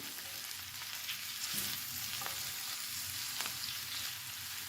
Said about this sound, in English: we're going to stir it just because we want to distribute the fat a little bit